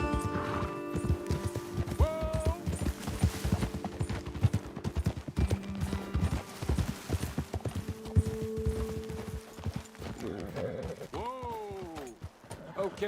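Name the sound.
horse hooves clip-clopping, Red Dead Redemption 2 video game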